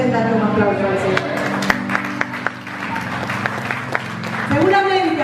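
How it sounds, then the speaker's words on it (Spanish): Applause rises in a church service, a congregation clapping together under sustained music and a speaking voice throughout. "¿Cuántos pueden darle un aplauso al Señor?"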